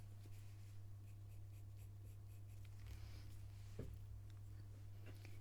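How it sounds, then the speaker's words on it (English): A pencil makes quick flicking strokes on drafting film while fur is drawn, a faint scratchy rhythmic scraping beneath a steady low electrical hum, with one slightly louder stroke near the end. "I'm just using very like sort of flicky kind of movement with the pencil"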